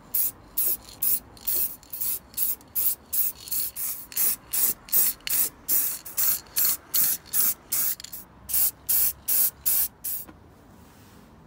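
Rust killer sprayed from an aerosol can onto a car's front end near the battery terminals, a close run of roughly twenty-five short, even hissing bursts in a steady rhythm.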